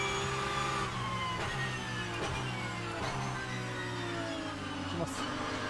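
Porsche 992 GT3 Cup engine in a racing simulator game, a steady mid-pitched engine drone with harmonic layers, heard under a voice.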